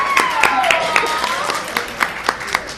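Slow, evenly spaced claps from someone at a live D20 tabletop show, sharp and distinct over voices and a rising tonal sound in the background.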